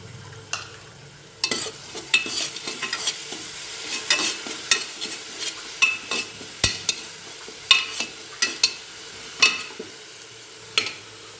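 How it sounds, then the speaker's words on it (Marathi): Green chillies sauté in a pan for a horse gram and onion curry, a steady sizzle broken by frequent sharp scraping and stirring clicks of a spatula, close and alone with no voices. "त्याच्यामध्ये हिरवी मिरची छान परतून घेऊया"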